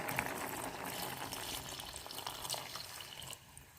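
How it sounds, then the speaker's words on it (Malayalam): Beaten coconut milk poured into a reduced prawn curry cooked with ripe kudampuli (garcinia); a steady, close splashing pour with a faint simmering hiss beneath, fading slightly at the end. "അതിലേക്ക് അടിച്ചു വെച്ച പാല് ഒഴിച്ചു കൊടുക്കാം."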